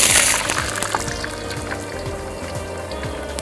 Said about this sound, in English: So I'm gonna add this oil back into the